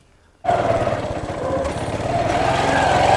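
A motorcycle engine starts abruptly and runs steadily nearby, a loud continuous rumble that holds through the rest of the clip, heard in a rural Punjabi setting.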